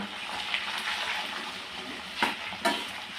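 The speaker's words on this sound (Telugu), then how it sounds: "ఓన్లీ మిర్చి వేసే ఆలు ఫ్రై చేస్తూ ఉన్నాను" Potato pieces fry in oil with green chillies, a steady close sizzle that hisses throughout, broken by a couple of brief louder stirs or scrapes near the end.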